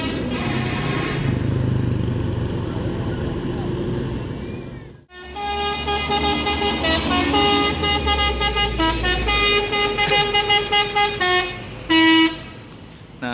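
Loud musical telolet horns from a PO Pangeran intercity bus departing a terminal bound for Jakarta, a long run of rapid melodic toots and tune phrases over idling engine rumble, close and piercing.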